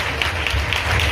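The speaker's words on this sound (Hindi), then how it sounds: "ताली बजा के प्रभु का नाम को महिमा करें" Congregation clapping hands in praise during a Hindi church service, a steady dense patter of many hands filling the short moment, fairly close and even in loudness.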